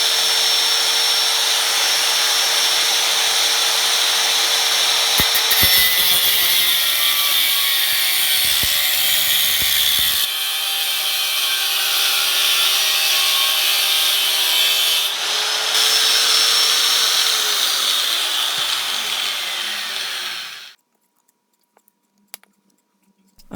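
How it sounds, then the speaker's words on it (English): Final trimming of a wooden insert for an old hand saw handle being restored, a continuous loud rasping and sawing scrape up close that runs steadily for about twenty seconds, then stops, leaving a few faint knocks. "Now I'm doing the final trimming of the insert."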